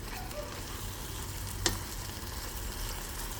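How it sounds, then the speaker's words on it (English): Costco grass-fed 80/20 beef patties fry in a pan on a burner with a steady, soft sizzle and crackle. One brief sharp tick stands out partway through. "I'm going to go ahead and put the patties or the pan back on the burner"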